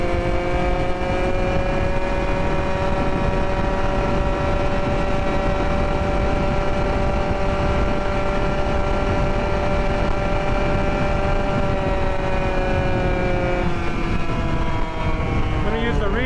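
A 63cc two-stroke gas engine on an ONYX RCR tribrid bicycle drones at full throttle with a steady high-pitched whine, heavy wind rush over the microphone and a slight pitch change near the end.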